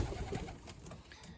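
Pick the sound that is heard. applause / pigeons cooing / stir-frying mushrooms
pigeons cooing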